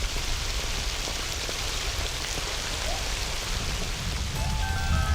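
Dense, heavy desert-edge rain in Shaba pouring down in a steady roaring hiss, with a low rumble beneath, unbroken and loud throughout.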